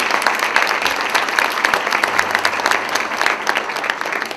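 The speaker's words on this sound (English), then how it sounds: "Please give them a big round of applause." An audience at a refugee sponsorship event claps in sustained, even applause, dense and close, with no voices over it.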